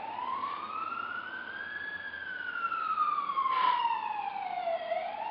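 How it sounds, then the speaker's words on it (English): Several police car sirens wail together, rising and falling tones overlapping steadily at a moderate distance over light traffic rumble. "there are sirens. Lots of sirens."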